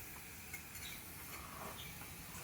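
A mixture with ginger garlic paste is stirred in a hot pan while cooking Kerala-style tuna pollichathu, giving a steady, close sizzle with soft scraping throughout and no voices.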